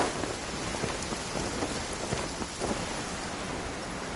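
Steady rain falling in the video game Genshin Impact, a dense, even hiss of drops on surfaces with faint rumbling underneath, continuous throughout without any talking.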